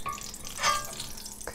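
Bacon grease sizzling in a hot pan, a steady crackling hiss heard close up with no talking.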